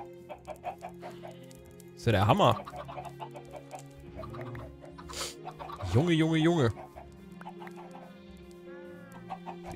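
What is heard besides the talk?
chickens clucking in the video game Minecraft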